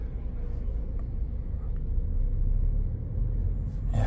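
A Mini Countryman with a 1.5 turbo three-cylinder engine accelerates, heard as a steady low rumble from inside the cabin, with road noise under it and no talk.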